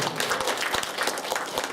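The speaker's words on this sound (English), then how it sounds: "Give them a round of applause" A crowd applauds, dense overlapping claps filling the room steadily for the whole stretch.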